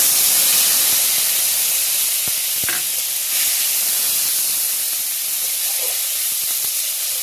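Tomato puree hitting a hot pan of ginger and spices for stuffed potato curry, a loud, steady hiss and sizzle close up that eases only slightly over several seconds, with no talking.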